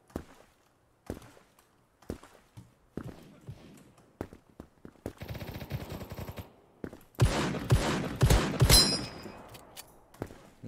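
Revolver shots ring out in a shooting video game, sparse single cracks at first, then denser bursts of gunfire and clatter later, fairly close and loud.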